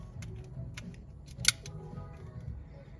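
A Smena 8M 35mm film camera shutter fires at 1/15 second, giving a single sharp mechanical click amid a few faint ticks and low room noise.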